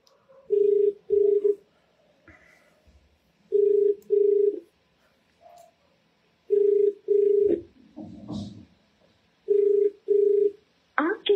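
An outgoing call rings out unanswered, giving repeated paired ring tones in a regular rhythm, each pair followed by a pause, with faint background noise and brief low sounds between the rings.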